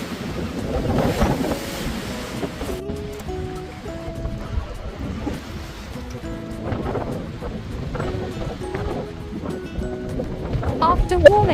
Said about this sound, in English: The sound of the pebbles moving in the ocean waves is amazing.